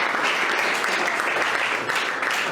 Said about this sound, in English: Tumpigie makofi akikuja on stage tafadhali